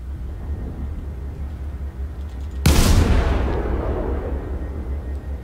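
A single loud naval gun salvo booms suddenly in the World of Warships video game during a rainy battle. A long rumbling tail follows over a low steady background hum.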